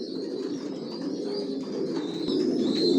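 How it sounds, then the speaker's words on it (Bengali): Racing pigeons of a Johnson long-distance line in a loft, steady overlapping cooing that grows slightly louder, with faint chirps above a low hum. "আমার লফটে সব লং এর কবুতর পালি"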